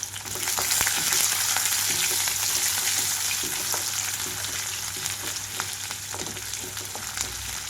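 Chopped onions and green chillies frying in oil with tempering seeds for a cauliflower fry, a steady loud sizzle with occasional stirring scrapes and clicks of a spatula against the pan.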